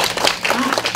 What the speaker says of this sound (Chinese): 那我们谢谢雪红，给他掌声